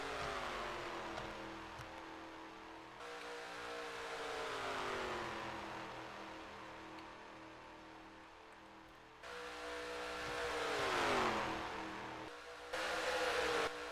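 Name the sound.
race cars drafting in a sim racing video game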